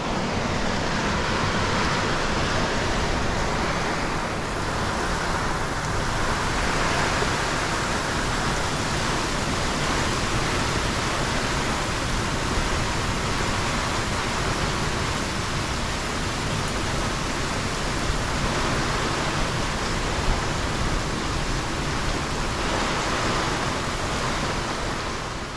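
A torrential rain squall at sea roars as dense, continuous hissing noise, with steady wind and water rushing loud and close for the whole stretch, without any talking.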